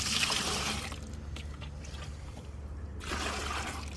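Homemade banana-peel potassium fertilizer is poured into a bucket, a close liquid splash and trickle that thins in the middle and surges again near the end.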